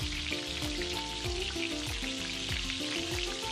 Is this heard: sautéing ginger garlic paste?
yes